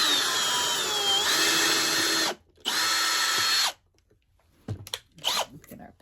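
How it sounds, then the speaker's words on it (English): A power drill biting into a wooden rosette, two sustained high whining bursts with the pitch dropping under load, separated by a brief pause and followed by a few clattering knocks. "Let's drill it."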